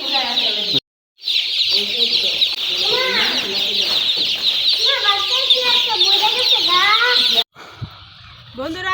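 Broiler chickens in a farm shed keep up a dense, close chorus of clucking and cheeping, with voices talking over the flock and two brief cutouts.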